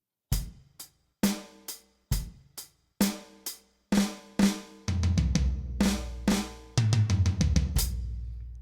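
A drum fill played alone: pairs of sharp hits on tom 1, tom 2 and the floor tom, descending from high to low, then a faster, louder run of strikes across the drums.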